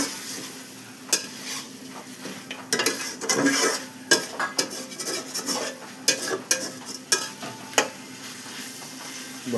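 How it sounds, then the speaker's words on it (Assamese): Broiler chicken meat with a spice mix and black pepper is stirred and fried in a pan. A steady sizzle is broken by repeated sharp scraping and clinking of the utensil against the pan. "মাংসটো দি এতিয়া লৰাইছোঁ"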